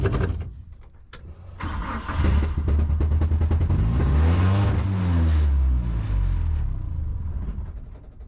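A Dodge Neon race car engine cranks and catches, then settles into a loud, rumbling idle with some rising and falling revs, heard up close with no talk.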